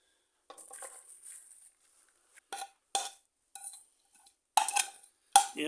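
Fenugreek leaves are stirred into a yogurt mixture with a spoon, producing short clinking, scraping bursts against the bowl separated by brief pauses, close and fairly crisp.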